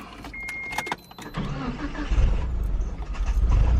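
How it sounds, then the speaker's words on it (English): Warmed-up Mitsubishi Galant VR4 with a coolant temperature sensor fault starts after a brief crank, then settles into a steady, close idle rumble, with small clicks and a whine beforehand. "So we're gonna go fire this up again, see if it starts fine after we warmed it up."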